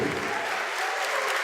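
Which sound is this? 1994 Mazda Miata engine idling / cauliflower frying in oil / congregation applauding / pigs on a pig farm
congregation applauding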